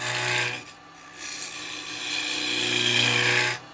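A standard round carbide woodturning tool shears a spinning workpiece on a lathe, throwing shavings: a harsh, steady rasping scrape that swells and fades across a few seconds, close and loud, with a low motor hum beneath and no voices.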